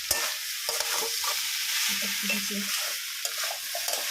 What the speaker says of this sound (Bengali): ভাজা আলুটাকে দিয়ে দেওয়া হলো মোচার মধ্যে। মোচাটা অনেকটা পরিমাণ এখন ভাজা হয়ে এসছে।